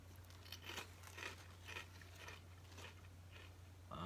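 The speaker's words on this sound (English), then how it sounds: "Got a very good crunch" Red wine vinegar kettle chips from Hen of the Woods being bitten and chewed: a series of quiet, crisp crunches repeating at a steady pace, close up over a low steady hum.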